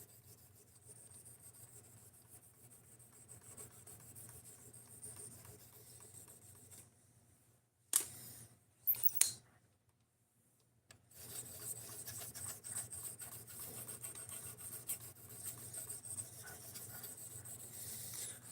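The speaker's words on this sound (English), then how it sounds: "we are sharpening a knife" A knife blade drawn repeatedly across a sharpening stone or rod, giving steady rasping strokes near and fairly quiet over a low hum, broken by a few louder knocks and a brief pause before the rasping resumes.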